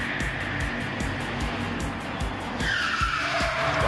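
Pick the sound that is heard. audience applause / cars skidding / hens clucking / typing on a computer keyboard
cars skidding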